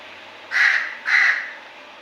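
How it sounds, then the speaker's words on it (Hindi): Two loud, close crow caws, each about half a second long and spaced roughly half a second apart, with no talking over them. "ये देखें जी कौवा"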